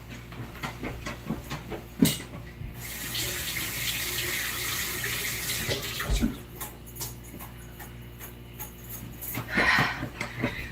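Tap water runs at a kitchen sink while something is washed, a steady broadband rush with a few clunks and splashes of handling, fairly close and moderately loud, without talk.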